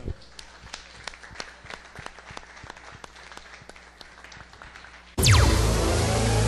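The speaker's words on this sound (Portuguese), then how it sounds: "Palmas ao Senhor." A church congregation claps for the Lord after a sermon, steady scattered hand claps filling the room for about five seconds before a loud burst of music or noise cuts in.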